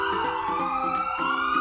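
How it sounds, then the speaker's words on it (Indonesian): A stationary ambulance siren sounds loud and near, its wailing tone holding steady throughout without any pitch shift. "Saat mobil ambulans dalam keadaan diam, maka kamu akan mendengar suara sirine yang konstan dari tempat kamu berdiri."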